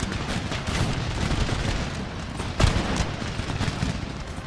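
Musket volley fire from troops in the video game Empire: Total War, with dense, continuous crackling gunfire that rolls on for the whole span and one sharp, louder report near the middle.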